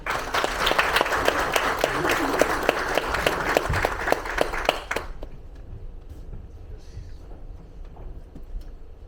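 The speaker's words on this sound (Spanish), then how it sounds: "Un aplauso, por favor." Audience applause at a book launch fills the first five seconds with dense, steady clapping, then cuts off abruptly to a quiet room with faint murmuring.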